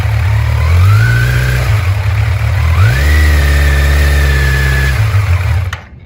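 A motorcycle engine idles loud and close, then revs up twice in steady surges before the sound cuts off at the end.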